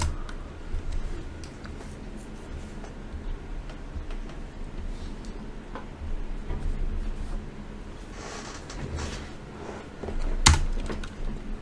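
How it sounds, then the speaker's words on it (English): Computer keyboard typing a reboot command during a Wi-Fi penetration testing session: steady clicks of keystrokes over a faint background hum, with a sharper, louder key press near the end. "We'll then type reboot now."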